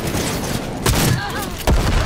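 Explosive booms and gunfire from a firefight in the video game Cyberpunk 2077, with two sharp, loud blasts standing out over a steady roar of combat noise and a brief voice.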